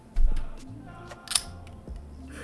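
A TWSBI fountain pen cap is pushed onto the pen, giving a few small, close clicks and snaps, including one sharp click, over faint background noise.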